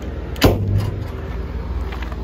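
A door slamming shut on a 1955 Chevrolet 3100 Big Window pickup truck, a single loud thud followed by a brief low rumble, close by with no talk.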